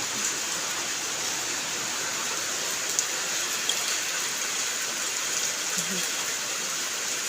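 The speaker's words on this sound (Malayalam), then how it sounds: "നല്ല മഴയാണ് കൂട്ടുകാർക്ക് ഞാൻ കാണിച്ചു തരാം കണ്ടോ നല്ല മഴയാണ്" Heavy rain pours down in a dense, unbroken hiss, steady and close, with a faint voice briefly underneath.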